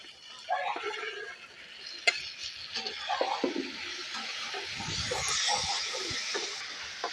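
A spoon scrapes and stirs fried potatoes into spiced masala in a pan, with soft sizzling and irregular clinks close by, no talk.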